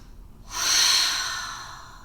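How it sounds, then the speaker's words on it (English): A single slow breath through the nose during a prenatal and postnatal yoga flow, starting after a short silence, swelling into a soft airy hiss, then fading gradually, close and alone. "Breathe in through your nose. Exhale, let it go."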